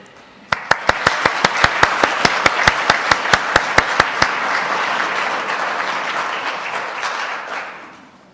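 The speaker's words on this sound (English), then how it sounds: "let's have a round of applause for the ensemble and that fantastic set of music." Audience applause after a pipes-and-drums band's set at a Christmas concert: a dense, steady wash of clapping that lasts several seconds, with a run of sharp, evenly spaced strokes over the first half before it fades out.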